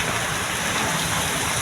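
Heavy rain pours steadily during a downpour with floodwater rising along a road, a dense continuous hiss with no voices heard, loud and unbroken throughout.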